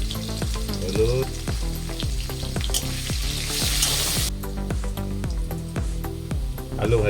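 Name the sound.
potatoes frying in oil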